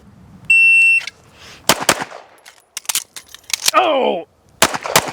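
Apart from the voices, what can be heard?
pistol gunshots during a shooting drill at a range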